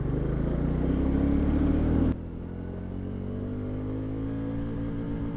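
A Royal Enfield Classic 350 motorcycle pulls away in first gear, its engine note climbing steadily. A loud, rough burst at the start drops to a smoother, rising drone.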